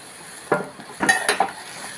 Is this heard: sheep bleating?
no